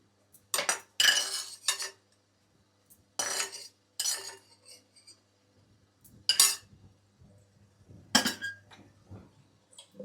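Ingredients for coconut chutney tipped and scraped into a steel mixer jar, producing several sharp bursts of clinking, clattering metal separated by quiet gaps, close and fairly loud, with no talking.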